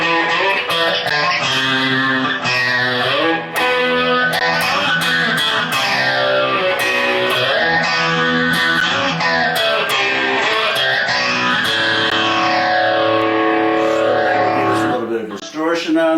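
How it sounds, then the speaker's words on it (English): Fuzzy, distorted electric guitar with a phaser effect plays a sustained riff with sweeping, swirling tone changes, loud and continuous throughout. "we threw on what we call distortion, and that gives it that fuzzy sound"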